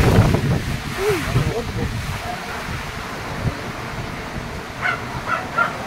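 Strong typhoon wind in Danao, Cebu roars and buffets the microphone throughout, with surging gusts, a few distant voices and scattered bird calls underneath.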